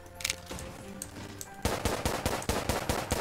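Rapid automatic gunfire in a tower defense style video game, a dense, loud burst of continuous shots kicking in partway through after quieter game effects, with no talking.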